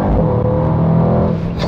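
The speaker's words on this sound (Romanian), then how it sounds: "evacuarea activă. O pornești sau închizi, depinde dacă vrei să se audă sau nu tare." A Mercedes-AMG GT 63 S 4-Door's engine rumbles and revs loudly and steadily up close through its active exhaust, a deep throaty exhaust note sustained throughout.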